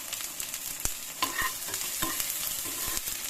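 Kasuri methi dropped into a sizzling pan of dhaba-style chana dal tadka with tomato, giving a steady close frying hiss broken by sharp stirring clinks and scrapes, with no voices.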